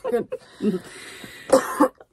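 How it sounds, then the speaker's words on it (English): Several harsh coughs break out, a couple early and a louder pair near the end, with brief voice sounds between. "Seriously, can't stop coughing."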